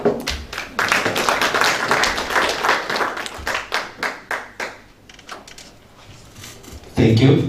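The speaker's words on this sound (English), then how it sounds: "We can have another round of applause to Dr. John Matongo from IBM" An audience claps in sustained applause for a speaker at a higher-education workshop. The applause is loud and dense at first, then thins into scattered, fading claps, and a voice starts speaking at the end.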